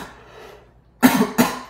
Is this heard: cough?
yes